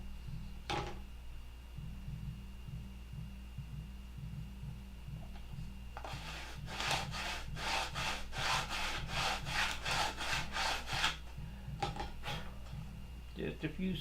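Sanding a Gen 4 horn clip square with a few quick back-and-forth strokes, a rhythmic gritty rasping burst in the middle, close and moderately loud over a steady low hum.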